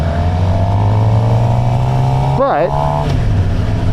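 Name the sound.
Suzuki GSXR 750 motorcycle engine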